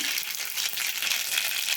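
Dense crackling and spluttering of mustard seeds popping in hot oil, a continuous hissing sizzle heard up close.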